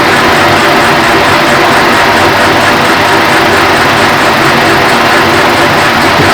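A metal lathe cuts steadily at 255 RPM, a loud, unbroken droning whir with a constant hum and no pauses.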